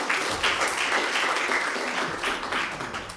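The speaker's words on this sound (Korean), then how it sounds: "발표해 주신 선생님께 박수 부탁드리겠습니다." Sustained audience applause after a presentation at a youth policy forum in Goesan County, a dense steady wash of many hands clapping throughout, fairly loud and close.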